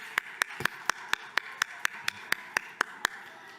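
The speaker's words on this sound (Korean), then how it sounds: "우리 친구들을 위해서 박수와 하이파이브로." Children at a church Friday evening worship service clap in unison, giving about fourteen sharp, evenly spaced claps in a quick, steady rhythm with faint room noise between them.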